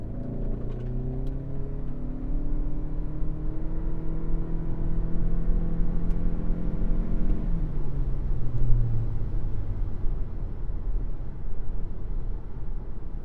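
A 2026 Toyota Camry Nightshade AWD hybrid with a three-electric-motor setup pulls away from a full stop on a slight uphill, giving a steady rising whir and engine drone heard from inside the cabin, with no talking.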